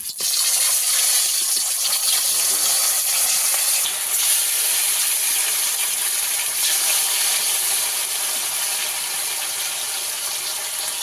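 Fish frying in a hot pan of oil on a lit stove, a steady, loud, broadband sizzle that holds constant for the whole stretch with no talk over it.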